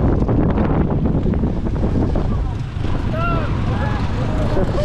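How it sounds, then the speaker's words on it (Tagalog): Strong wind buffets the microphone at a hilltop viewpoint crowded with motorcycle riders, a constant loud roar across the whole stretch with brief voices and faint chirping calls mixed in. "lakas ng hangin"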